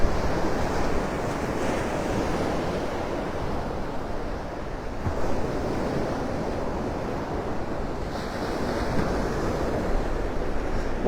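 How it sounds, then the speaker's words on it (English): Ocean waves roll and break against the old pilings of Naples Pier on a beach, a continuous loud wash of surf with wind buffeting the microphone and surges swelling every few seconds. "Watching the waves breaking on its old pilings."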